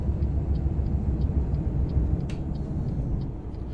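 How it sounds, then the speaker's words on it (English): Scania truck engine in Euro Truck Simulator 2, a steady low diesel drone that holds evenly throughout with no talk over it. "Listen to the sound of the actual Scania compared to the Iveco."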